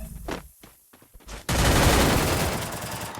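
Loud, dense gunfire from the battle royale game Free Fire erupts halfway through, a continuous volley of rapid shots following sparse quieter sounds at the start.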